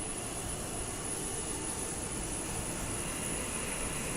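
Boeing 727-200F freighter jet engines spool up in the Microsoft Flight Simulator 2020 game, a steady, broad whooshing roar with a thin high whine on top and no talk.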